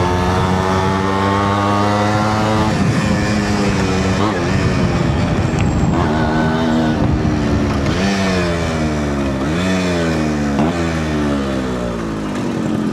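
Yamaha RX100 two-stroke motorcycle riding on a main road in Bangalore, the engine revving up and down through repeated gear changes, loud and close with a buzzy two-stroke drone and steady wind rush throughout.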